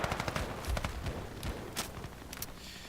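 Rapid M14 EBR rifle shots crack in a first-person shooter game, a dense string of overlapping reports over constant loud game noise, with no talking.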